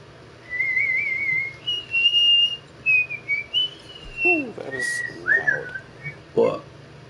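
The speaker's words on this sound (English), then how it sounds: "Whistling." A person whistles a wavering, playful tune in short phrases, clear and close, with brief pauses between bursts and a few low vocal sounds and chatter mixed in underneath.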